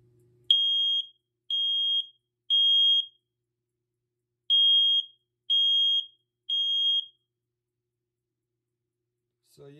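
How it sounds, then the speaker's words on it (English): A First Alert smoke alarm sounds in six shrill, evenly spaced beeps, three then a pause then three more, loud and close. "It just activates the alarm and you can set it off like this."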